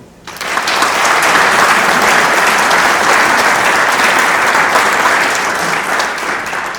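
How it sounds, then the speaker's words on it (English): A ceremony audience applauds at a mayor making event, a dense, steady wash of many hands clapping that swells in quickly after a brief quiet start and holds loud and even to the end. "Please, I would like you all to give them a round of applause."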